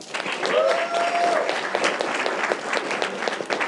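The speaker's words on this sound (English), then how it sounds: "So please, San Diego, give yourself a round of applause." Applause from an audience in San Diego rises quickly into a dense, sustained crowd clapping that keeps going, with a few voices faintly mixed in.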